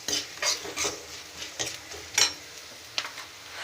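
A spatula stirs tomato, coriander, ginger and garlic frying in a pan for pepper chicken gravy, giving close, irregular scraping strokes over a faint sizzle.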